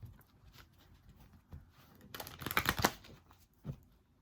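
Tarot cards being shuffled by hand in a quiet room, a soft riffling patter that builds into a denser burst of card flicks midway, then tapers to a few light taps.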